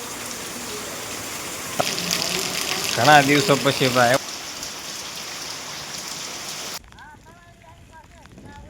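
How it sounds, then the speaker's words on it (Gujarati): Sudden rain falls as a steady, even hiss throughout, while someone speaks briefly partway through and the rain continues more quietly toward the end. "વરસાદી માહોલ"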